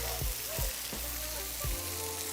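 A stick of butter sizzling and melting on a hot griddle for Cajun fried rice, a steady close frying hiss with a few soft low thumps, no voices.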